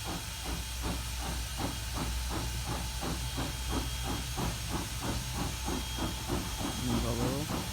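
Steam train #475 hisses steadily as it pulls away toward the station, a continuous close hiss over a regular rhythmic chuffing pulse, with faint voices in the background.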